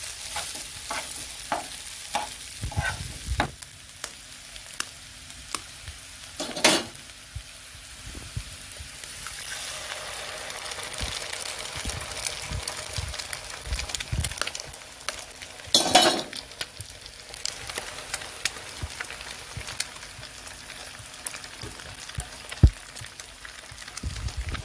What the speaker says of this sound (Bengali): আলুটা ভাজা করলাম, এবার এর মধ্যে একটু ডিম দিয়ে দেবো।